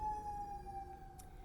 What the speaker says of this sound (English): We'll probably hear sirens multiple times in videos.